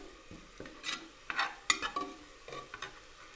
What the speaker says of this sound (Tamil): வெங்காயம் இன்னும் கூட நமக்கு கொஞ்சம் வதங்கணும்